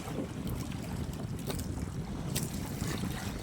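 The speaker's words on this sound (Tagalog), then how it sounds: "Lakas kasing hangin" Steady roar of strong wind buffeting the microphone over open water, with faint splashes and gusts throughout and no voices.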